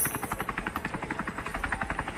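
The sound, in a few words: helicopter in the video game Scarfall 2.0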